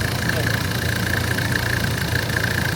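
Car engine idling steadily after a fuel screw adjustment on a 1HZ with an 11mm boost compensator fitted, a constant close drone with a whining tone running unchanged throughout.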